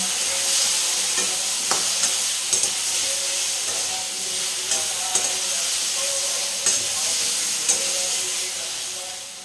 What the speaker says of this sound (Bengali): এইভাবে কিছুক্ষণ কষে নেব।